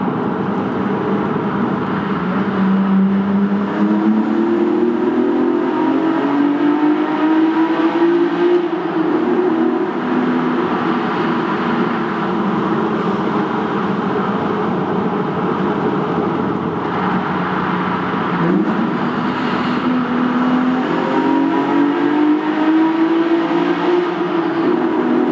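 Toyota Supra with a 2JZ engine on individual throttle bodies, revved inside an airport road tunnel near Manchester: two long rising engine sweeps with a droning, echoing reverberation throughout.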